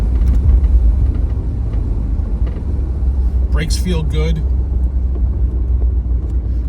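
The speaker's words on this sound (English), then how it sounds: "The exhaust sounds great too." A deep, continuous V8 engine and exhaust rumble from a 1987 Chevrolet IROC 5.7 fills the recording, loud and close, with a short spoken remark partway through.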